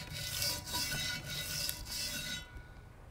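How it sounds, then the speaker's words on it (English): Sandpaper rasps back and forth over a Jeep Liberty's metal surface, scrubbing away rust and old gasket material in steady continuous strokes up close, then cutting off near the end. "with some sandpaper and just lightly run it across the surface to clean it"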